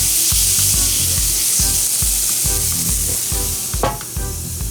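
Flank steak sizzles loudly on a charcoal grill, a steady close hiss with repeated low thumps and scraping as the meat is moved and flipped, with one brief sharper clatter near the end.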